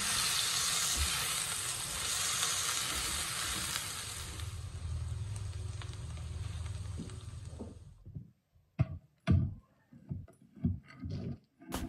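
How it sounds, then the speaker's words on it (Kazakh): Chopped onion frying in hot oil in a pan: a loud, steady sizzle for about eight seconds, then it stops abruptly and a few sharp clanks and scrapes of utensils follow. "Қызып тұрған табаға сұйық майды құйып, пиязымызды қызарғанша қуырып аламыз."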